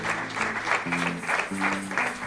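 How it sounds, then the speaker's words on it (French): Classroom-style group applause at a church teaching session, rhythmic bursts of clapping in pulses under a sustained low tone, moderately loud and fairly close. "On peut applaudir cette réponse"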